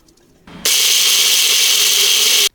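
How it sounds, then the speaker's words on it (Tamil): A mixer grinder powders ingredients in its jar, starting with a brief low rumble before bursting into a loud, steady, high-pitched whir that runs unbroken for about two seconds and then cuts off. "மிக்சி ஜாரில் போட்டாச்சு இதை அப்படியே அரைச்சி பொடியாக்கிக்க வேண்டியது தான்"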